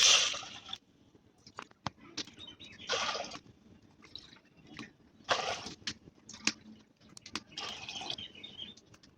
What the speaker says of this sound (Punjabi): ਚਾਰ ਕੋਲੀਆਂ ਆਪਾਂ ਪਾਣੀ ਦੀਆਂ ਪਾਵਾਂਗੇ